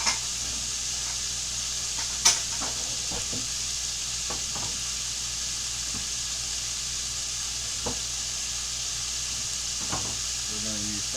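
Shallots and garlic frying in a pan give a steady, bright sizzle throughout, with occasional clinks and stirring scrapes on top and a soft voice in the background.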